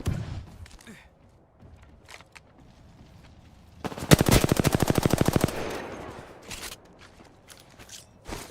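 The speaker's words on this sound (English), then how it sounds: "Firing. Reloading." Rapid automatic gunfire in the Fortnite video game: a dense burst of evenly spaced shots lasting about a second and a half, framed by scattered clicks and clatter of weapon handling and reloading.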